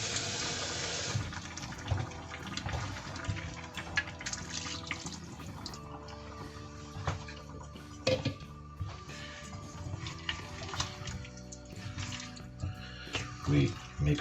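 Water pours and splashes into a tomato mixture for a beef and potato tagine, a steady close running and trickling sound with clinks of kitchenware, while a person talks over it.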